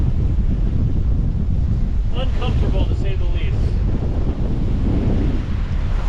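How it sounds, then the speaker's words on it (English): Strong wind roars at sea around a 28ft sailboat, a loud, unbroken buffeting rush against the microphone with waves churning beneath, while a voice speaks briefly over it. "Oh, that's strong wind right there."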